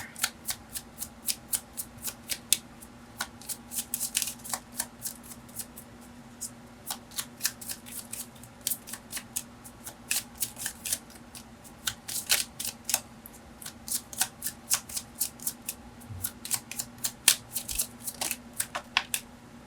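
A deck of tarot cards is shuffled by hand, giving close, crisp clusters of slapping and riffling card sounds in an irregular rhythm over a low steady hum, with no voices.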